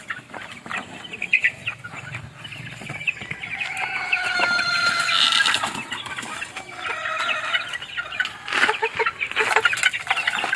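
Young roosters, all stags, cluck and call together in a backyard flock at feeding time, a busy, continuous chorus of overlapping clucks and short crows close by, with some wing flapping.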